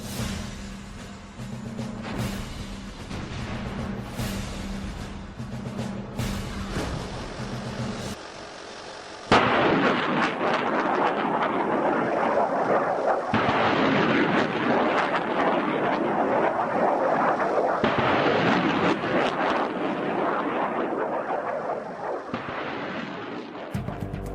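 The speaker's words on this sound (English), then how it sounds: "British and American troops began a massive artillery barrage onto the Iraqi positions in front of them" Massive artillery barrage with multiple launch rocket systems firing during the Desert Storm ground war: after a stretch of music, a loud, continuous broadband roar of launches and blasts takes over and persists to the end.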